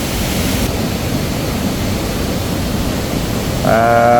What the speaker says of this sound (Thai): น้ำนี่ออกมาทุกแจทุกมุมทุกซอกทุกมุม เบิ่งคุณก็เป็น น้ำตกลงมา